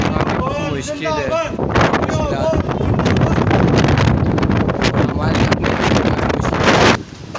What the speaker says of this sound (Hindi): बिल्कुल तेज़ हवाएं अभी इस वक्त चल रही